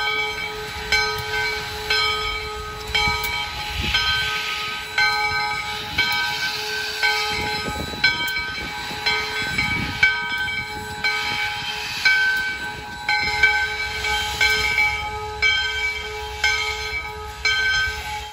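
USSC steam locomotive number 148 working on a winter morning, a steady rhythmic chuff and rumble with ringing bell tones and hissing steam, loud and close, no voices.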